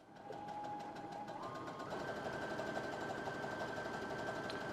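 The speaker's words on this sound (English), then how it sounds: "we're inserting our fabric under the machine, and we're going to place the foot down as well as our needle, and we are going to start sewing" Sewing machine running steadily as fabric for a holiday Santa hat is stitched at a half-inch seam, a close continuous rapid chatter whose pitch rises slightly as it speeds up partway through.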